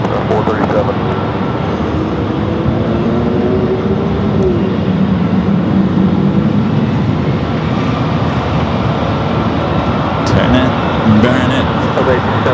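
A large jet rolls and climbs away on takeoff from LAX runway 24 left, a broad, steady roar that stays loud throughout while tower radio chatter talks over it.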